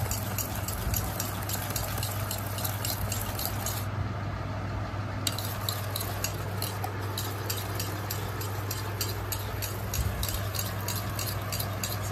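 Cupcake premix batter being stirred together with ordinary vegetable cooking oil in a bowl, a steady soft scraping and squishing that runs continuously and close for the whole stretch, with no talking.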